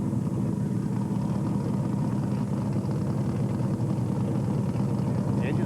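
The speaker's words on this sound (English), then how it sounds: "We hear the engine running in the car." A race car's engine, an Oldsmobile in the pits at Atlanta Motor Speedway during a 1992 ARCA SuperCar Series race, holds a steady, dense rumbling idle throughout amid track noise.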